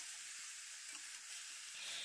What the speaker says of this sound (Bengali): আর গ্যাসের মধ্যে সেজন্য মূলা ভাজাটা করছি